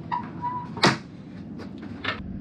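Cupboard door in a cruise ship cabin on Mein Schiff Herz opens with a sharp creaking swipe, followed by a few soft knocks and a light rattle, close and alone.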